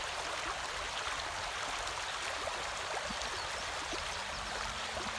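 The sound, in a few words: creek water flowing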